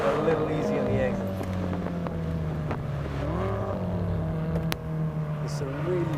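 BMW M5 engine on a race circuit, a loud sustained drone with rising and falling pitch as the car exits a tight corner and accelerates, with a voice talking over it.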